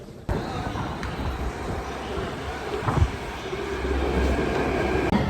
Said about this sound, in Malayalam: ഇപ്പം മെട്രോ വരാൻ വേണ്ടി വെയിറ്റിംഗിലാണ്